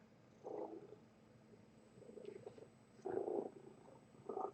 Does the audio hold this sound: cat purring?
yes